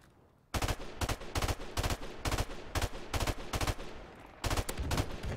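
Rapid gunshots in a competitive first-person shooter game: loud, close bursts of automatic fire in quick repeated volleys over several seconds, with a short gap before the final bursts and no talking.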